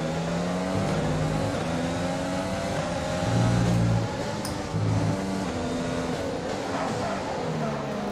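An F1 2020 race car engine in the video game at Zandvoort, with a racing engine droning and shifting pitch through gear changes at moderate volume, under a voice talking.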